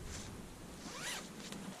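A zipper on the access point of a Tentsile Stingray tree tent rasps open in one quick, close pull, with a short scratchy tail afterward.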